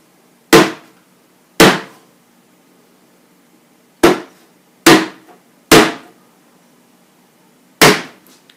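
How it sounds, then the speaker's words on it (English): Sharp, loud whacks land on top of an Xbox One console above the disc drive: six separate hard strikes at uneven intervals, each ringing out briefly before silence. "I'm going to give it a few healthy whacks above"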